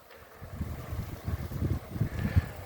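Gusty wind buffeting the microphone in an apricot orchard with bees active, in uneven low rumbling pulses, fairly close and continuous, with no voices.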